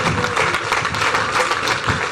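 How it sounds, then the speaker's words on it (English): An audience at a public event applauds with steady, dense clapping throughout, loud and continuous with no pauses. "Please give him another round of applause."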